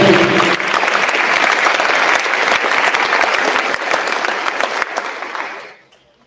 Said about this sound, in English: Big round of applause for Cason